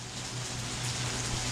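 Steady rain falls outdoors in a continuous soft hiss with a faint low hum beneath, no voices present.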